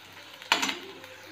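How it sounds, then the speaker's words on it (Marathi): Onion being fried in a pan until golden for an onion chutney: a brief burst of stirring and sizzling, a short scrape-and-hiss lasting under a second that then fades to a quiet background. "हा छान सोनेरी होईपर्यंत परतून घ्यायचा कांदा"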